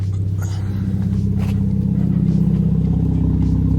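A car exhaust rumbles nearby with a deep, steady engine drone, the low throbbing tone swelling slightly as it revs.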